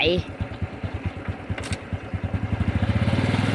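A motorcycle engine cranks and catches on a farm outing, settling into a steady, increasingly even putter up close, with a voice heard briefly at the start.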